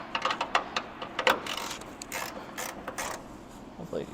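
A ratchet works a bolt loose during a timing belt change, giving close, irregular clicking bursts mixed with faint metallic clatter and creaks.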